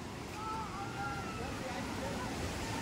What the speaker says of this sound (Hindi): ये देखिए यहाँ का झरना